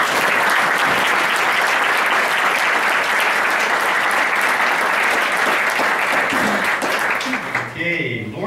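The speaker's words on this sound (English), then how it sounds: "Could I ask, please, to give a round of applause for our panel?" Audience applause for a panel at a local chamber of commerce event, steady and dense clapping filling the room for about seven seconds, then fading as a voice begins speaking.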